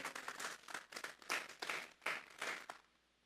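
A church congregation claps together as an offering of praise to God, a series of bursts in loose rhythm that ends abruptly, fairly distant.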